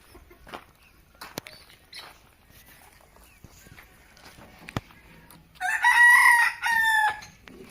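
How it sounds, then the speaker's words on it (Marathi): A rooster crows loudly twice near the end, after a stretch of quiet background with faint bird sounds and a few sharp knocks. "खूप कोंबडी आहेत"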